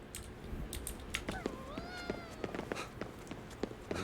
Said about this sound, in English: Report written by KK regarding meows heard from an abandoned building